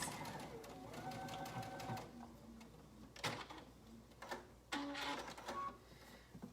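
A sewing machine stitches a shirt in a quiet room, running in short rapid bursts, then pausing, with a few clicks and handling knocks between the stitching runs.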